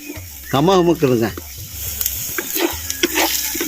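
Ginger-garlic paste fries in oil in a pan and is stirred, giving a close sizzling hiss with scraping and clinking of the spoon, while a voice talks over the start.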